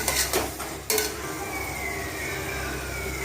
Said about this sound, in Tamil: பச்சை வாசனை போகிற அளவுக்கு நல்லா வதக்கி எடுத்துக்கலாம்